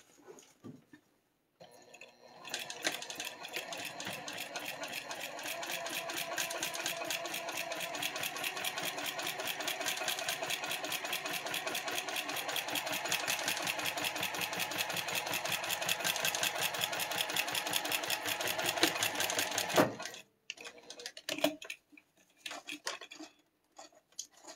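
A sewing machine stitches a quilt seam at a scant eighth-inch allowance, running in a steady, fast, close-up whir for about eighteen seconds, with brief back stitching and handling clicks at the start and end.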